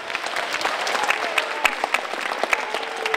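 A show audience applauds a volunteer after a rope trick, with loose, scattered claps giving distinct sharp hits over a softer clapping bed, and a faint voice underneath.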